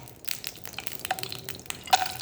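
Peanuts and raisins fry in a pan with soft, uneven crackles and small pops that come and go close by, with no talk.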